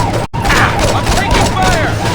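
Gunfire crackles through a continuous, dense mix of game-action noise in a Saints Row shootout, with a brief dropout near the start and shouting voices layered over the shots.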